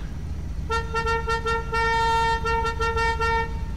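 Several car horns in GTA 5 Online sound in a bursting sequence, steady toots starting and stopping with short gaps and overlapping in places, loud and close over a constant low game rumble.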